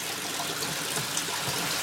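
Steady broadband rush of water pouring into a garden fish pond, continuous and fairly close, with no talking.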